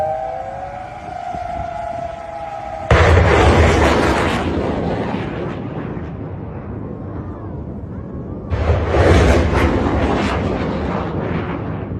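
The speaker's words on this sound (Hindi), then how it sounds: "मिसाइलें कतर में जाकर दंदनाती हुई गिर रही हैं" Two massive booming blasts from Iranian missiles striking in Qatar, each a sudden loud broadband explosion that rumbles and slowly decays, the first following a rising wail, with a second impact some seconds later.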